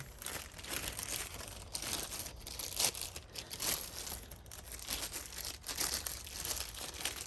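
Packaging of a Milwaukee green three-line laser level is unwrapped, with continuous close crinkling and tearing of plastic and paper filling the whole stretch, no talk.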